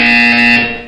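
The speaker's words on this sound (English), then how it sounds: "You will hear a buzzer." A single sustained electronic buzzer tone in the video game Portal 2, loud and steady, cutting off after about half a second with a brief faint blip at the end.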